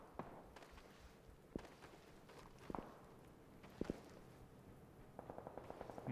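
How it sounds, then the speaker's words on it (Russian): Footsteps of two players outside a house in PUBG, faint scattered thuds and steps at a distance, with a quicker run of steps near the end, no talk. "Слышу шаги от двоих перед домом."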